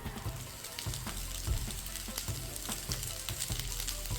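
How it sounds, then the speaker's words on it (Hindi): Tomato fried rice made from leftover rice, sautéing and tossed over high heat, a dense steady sizzle with rhythmic scraping and tossing knocks, close and loud throughout. "अब इसे आंच तेज़ करते हैं और टॉस या फिर अच्छे से मिक्स करते हुए सौते करेंगे"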